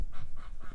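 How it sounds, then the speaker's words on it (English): A Canada goose on a homestead honks three times in quick succession, nasal calls fairly close with short gaps between, no talk. "adopted by at least one Canada goose"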